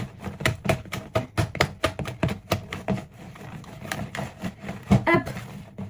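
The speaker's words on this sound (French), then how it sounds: "Et on vient à nouveau mélanger" Banana bread batter being mixed in a bowl: close, steady rhythmic knocks and scrapes of the utensil against the bowl, repeating quickly throughout with a brief pause near the middle.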